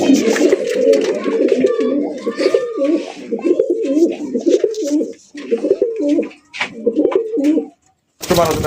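Pigeons at a bird market cooing in repeated low throaty phrases, close and clear, with brief breaks and a burst of noise near the end.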